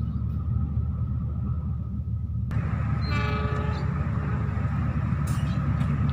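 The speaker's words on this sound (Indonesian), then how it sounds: "Ya, ini KA Argolis ya." The Argo Wilis passenger train passes Nagreg station in Indonesia with a heavy continuous rumble of rolling wagons, and a bright horn blast enters midway over the roar.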